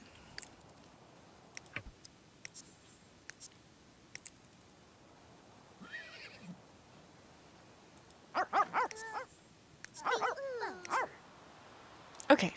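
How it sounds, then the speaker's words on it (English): Dogs bark and yip in The Sims 3, with scattered short clicks early on and then clusters of fairly close, moderately loud barks and whimpering toward the end, with no talking. "Look at all the dogs."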